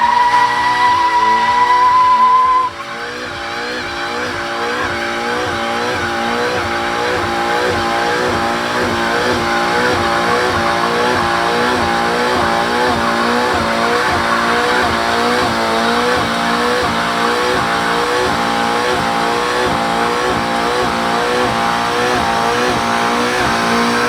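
A Toyota GR86 does burnouts and slides sideways. After a short pause its engine revs hard, and loud tire squeal carries on without a break while the car skids.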